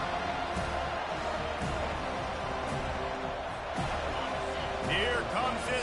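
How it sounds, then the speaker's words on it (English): Home crowd noise in the NCAA 25 college football video game: a steady, distant stadium roar with murmuring fans and occasional thumps, swelling slightly toward the end, beneath an announcer's ongoing commentary. "Here comes this home crowd as the defense tries to get off the field on third down"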